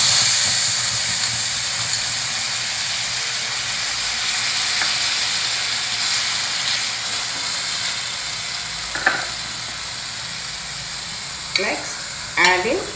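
Coriander leaf, green chilli, salt and lemon juice paste fries with roasted groundnuts in a pan, a steady hissing sizzle with scattered stirring scrapes and clicks near the end, no voices.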